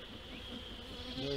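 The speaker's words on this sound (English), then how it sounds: "There's a lot of bees in here." Bees buzz inside a beehive nuc in a steady, even drone that is soft and continuous, with no breaks or other sounds.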